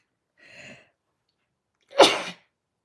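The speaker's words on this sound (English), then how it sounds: "Excuse me, I'm going to sneeze." One loud, sharp human sneeze bursts out after a short, softer intake breath, close to the mic in an otherwise quiet room.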